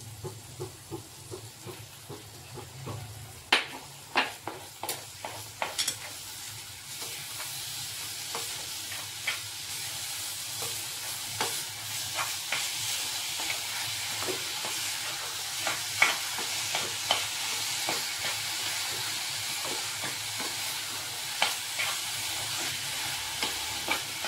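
Jaggery melting in a pan, a steady hissing sizzle with a series of scraping stirs and taps, busy at first then settling into a continuous quiet bubbling hiss, close up with no voices.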